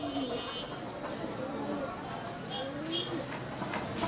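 Doves in a pet bird shop give soft, repeated cooing, faint and steady, along with other bird calls and background shop noise.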